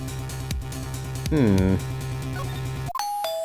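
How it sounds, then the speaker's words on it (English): A doorbell chimes a clear two-note ding-dong in the Phoenix Wright: Ace Attorney video game, loud and close over steady background music, then a brief higher electronic tone follows near the end. "Ding dong! Oh, someone's at the door."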